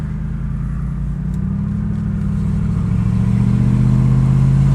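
A Lexus GX470 with open SPELAB exhaust cutouts rumbles loudly up close, its deep engine note climbing steadily as it revs and builds.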